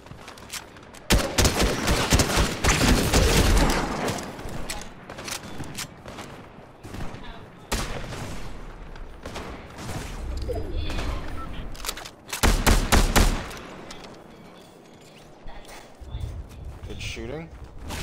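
Video game gunfire in several loud bursts of rapid shots separated by quieter stretches, with players talking throughout.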